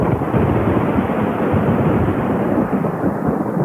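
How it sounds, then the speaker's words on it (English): A radio play sound effect stands in for the stomping feet of a giant alien spacecraft: a loud, deep, continuous thunder-like rumble without a break. "Listen to the enormous thudding sounds of its massive feet as it stomps down the street."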